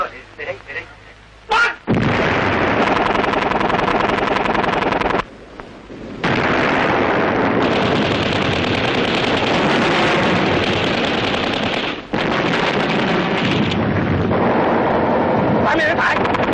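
Loud, sustained battle din of gunfire and explosions from a 1961-set Hmong war film, with dense booming bursts filling most of the stretch, brief lulls between them, and voices calling out beneath.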